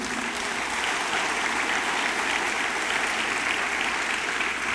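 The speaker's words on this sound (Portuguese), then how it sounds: "Você pode aplaudir a Jesus um pouquinho?" Church congregation applauding during a service, a steady, dense wash of clapping from many hands that fills the room evenly and loudly throughout.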